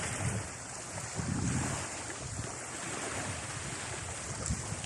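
Sea waves wash onto a beach as a soft, continuous surf with a couple of fuller swells rising and falling, mixed with light wind noise on the microphone.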